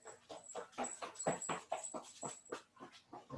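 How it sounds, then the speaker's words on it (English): A pet dog gives a quick run of soft, rhythmic whimpering yips and barks indoors, fairly faint and repeated about a dozen times in a row. "my dog is going to bark because my kid can't keep his hands off of her"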